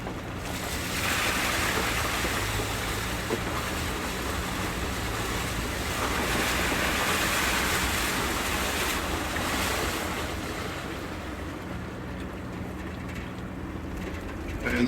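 A vehicle rolls through water lying across the outback Birdsville Track at Gason Creek, Queensland, a steady, loud rushing wash of splashing and wind-like noise throughout, swelling and easing slightly without a break.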